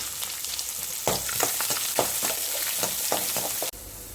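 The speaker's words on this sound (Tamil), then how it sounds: "வெங்காயம் சேர்த்துக்கலாம்" Onions sizzling in hot oil with mustard seeds in a pan while cooking sundakai poriyal, a steady broadband crackle with several sharper stirring scrapes and a brief drop near the end.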